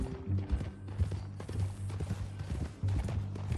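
Horse hooves clip-clop at a steady walking rhythm in Red Dead Redemption 2, fairly close, with a low tonal background hum and no talk over them.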